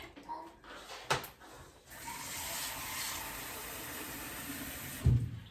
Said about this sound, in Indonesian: Karena ini kurang air, kita tambahkan air.